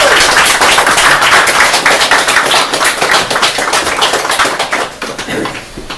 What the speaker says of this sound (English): I got so into clapping